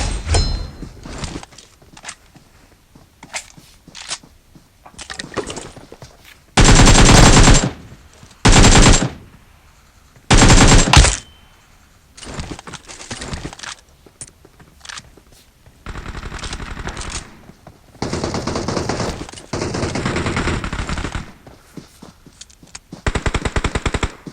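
Automatic gunfire in the mobile battle royale game PUBG Mobile, several loud sustained bursts of rapid shots separated by quieter stretches of game noise, with no speech.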